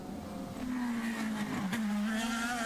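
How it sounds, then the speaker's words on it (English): A 2011 IndyCar Baltimore Grand Prix street-course qualifying car, the No. 9, drones past with a steady, fairly loud engine note and a brief pitch dip midway, with no voices over it. "So the 9 car is going to be the final car to cross the line."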